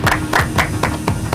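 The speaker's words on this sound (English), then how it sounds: "Please, a round of applause to both schools." Applause for two schools at a debate competition comes as about six distinct, evenly spaced claps, close and fairly loud, like a few hands clapping in slow rhythm.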